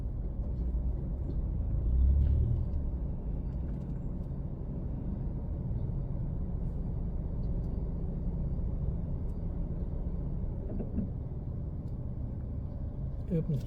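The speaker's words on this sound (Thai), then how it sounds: "เป็นถนนที่ มีการสัญจรหลายเนาะเป็นถนนที่ มีผู้คน เดินทางหลายเนาะ" Busy road traffic in Vientiane, Laos, a continuous low rumble of passing cars and vehicles that swells briefly early on and then holds steady in the background.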